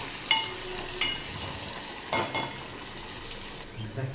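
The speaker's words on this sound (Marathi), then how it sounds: "लसूण चांगला लाल झाला की त्यामध्ये कांदा टाकायचा। कांदा व्यवस्थित परतू द्यायचा।" Garlic and onion fry in oil with mustard seeds and cumin over a medium flame, a soft steady sizzle broken by a few sharp spatula scrapes and clicks.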